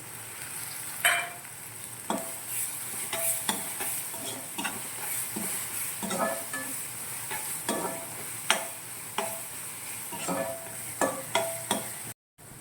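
A spoon stirs kozhukattai ingredients in a pan, giving close, repeated scraping strokes and clinks over a soft steady sizzle, in an uneven rhythm for several seconds with no talking.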